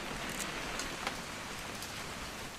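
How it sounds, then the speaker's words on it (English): Steady rain falls in the game What Remains of Edith Finch, a continuous soft hiss of drops with a few faint sharper patters, no voices. "It's gonna rain the whole weekend"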